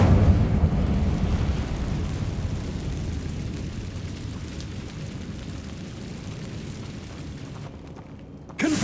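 Incendio fire spell in Hogwarts Legacy: a loud, dense roaring burst of flame that rumbles steadily for several seconds, gradually fading, then cuts off with a short fresh burst at the very end.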